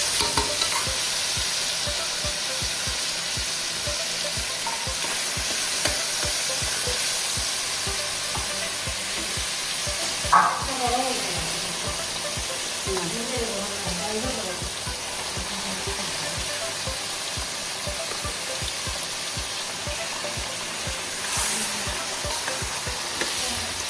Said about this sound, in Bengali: আমি তেঁতুলগুলো ছেড়ে দিয়েছি তেলের মাধ্যমে